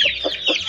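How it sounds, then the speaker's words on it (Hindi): A white rooster and hens kept as Aseel fowl cluck in short, close, repeated bursts, with a steady hum underneath. "वाइट वाला मुर्गा दिखा दूँ।"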